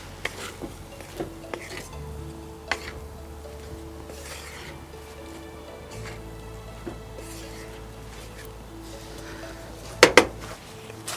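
A spoon stirs Somali Wakanda rice in a pot with the fire off, producing scattered scrapes and light clinks against the metal over a quiet background, ending in a couple of louder knocks.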